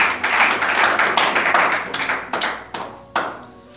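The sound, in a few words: congregation applauding after the sermon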